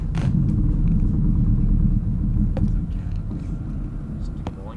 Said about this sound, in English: No, it's thunder outside.